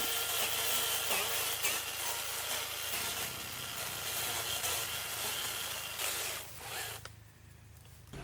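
A Bosch GKE18V cordless chainsaw cuts through thorny date palm fronds, giving a steady buzzing, rasping drone that runs for several seconds before cutting out abruptly near the end.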